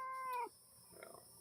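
A cat gives a single clear, close meow with a falling tone that lasts about half a second, followed by faint background murmur.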